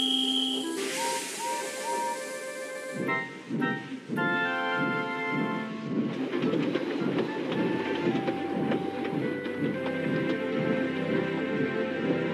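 A steam engine train in a Roblox remake of Thomas the Tank Engine rolls past with steady clickety-clack over rail joints and chuffing, a whistle-like tone early on, loud and continuous with no talk.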